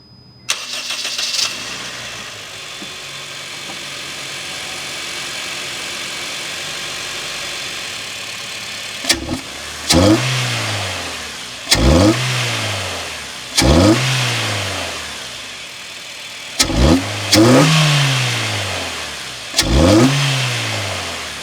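A Honda Fit GD3 engine with a newly installed cheap aftermarket intake hums at idle, then revs sharply in a series of about six loud bursts, each climbing and falling back, close up.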